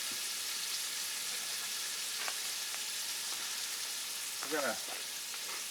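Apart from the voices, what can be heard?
seasoned chicken pieces frying in a Dutch oven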